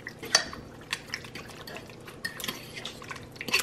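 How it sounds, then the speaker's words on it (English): Spoon stirring brown gravy mix and water in a slow cooker, giving soft liquid sloshes and occasional light clinks against the pot, quiet and close. "give this a nice stir"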